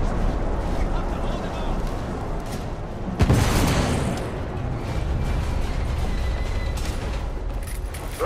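An explosion on a ship in the video game The Order: 1886 gives a sudden loud boom partway through, over a constant roaring rumble of engine and fire noise.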